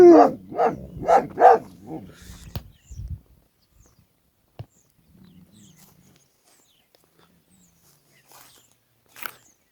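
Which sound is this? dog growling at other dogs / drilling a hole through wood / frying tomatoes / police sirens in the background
dog growling at other dogs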